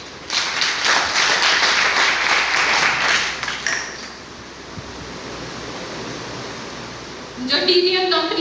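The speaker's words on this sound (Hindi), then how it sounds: "तो एक बार जोरदार तालियां अपनी DTM market, dolphin travel marketing company के लिए" An audience at a company event claps loudly for about three seconds, a dense burst of applause that fades into room noise before a voice starts speaking.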